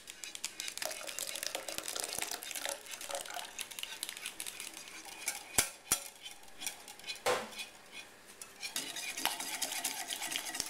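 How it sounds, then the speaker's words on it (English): Cobbler batter ingredients are whisked together in a bowl, a brisk, irregular scraping and clinking of whisk against the dish, close and fairly quiet, with a few sharper knocks. "go ahead and just whisk this together"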